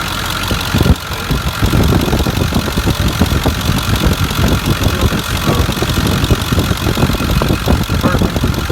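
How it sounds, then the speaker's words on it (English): A 2002 Ford F250 pickup with the 7.3 diesel engine idles loudly and close, a steady rough clatter with constant knocking pulses throughout. "Like I said, truck runs great."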